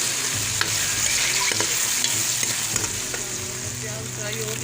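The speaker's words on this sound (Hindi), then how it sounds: "प्याज फ्राई हो गया है, अब मैं लहसुन अदरक पेस्ट शामिल कर लूँ।" Onions frying in a pan for village-style matar gosht: a steady, close sizzle runs throughout, with spatula scrapes and stirring clatter breaking through. No one speaks.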